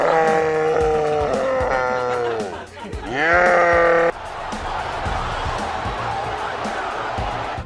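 Sheep that were kept for three months in a dark room bleat loudly after their release, with many overlapping bleats for a few seconds, followed by a noisy outdoor bustle.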